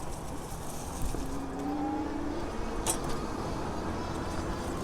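A turning car passes close to a rider on an e-bike capable of over 30 mph: steady road and wind rumble with a rising engine and tyre sweep as the vehicle goes by, no talk.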